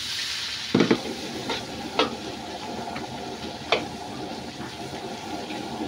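Butter hits a hot pan holding cooked shrimp for fried rice, bursting into a sharp sizzle that settles into steady frying, with a few utensil clacks; close by, with no speech.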